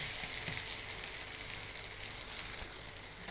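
Carrot egg omelette frying in a little oil in a pan, a steady close sizzle with a bright hiss throughout and no talk.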